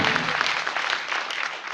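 An audience applauds in a packed hall at a corporate success celebration and recognition event, honoring a speaker's uplines; the clapping is dense and loud, a steady wash of many hands fading slightly at the end.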